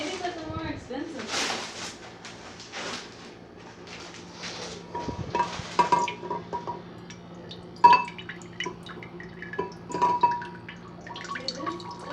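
Water trickles and drips from a small machine added to a fish bowl, intermittent close drips and bubbling beneath ongoing conversation from people nearby.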